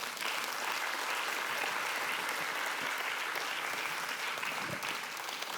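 Audience applause for a ladder acrobat at a centenary congress, a dense, steady clapping from a crowd that holds evenly throughout without letting up.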